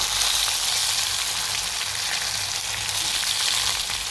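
Garlic-ginger paste and tomato fry for a cluster bean curry, giving a steady bright sizzle with light crackle, close and even throughout, with no voices.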